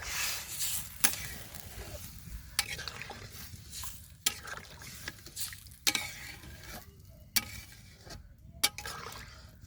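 Thin curry broth for a potato and rohu fish curry bubbles and sizzles in a pot, with a close, steady simmer punctuated by occasional clinks of a utensil; no speech.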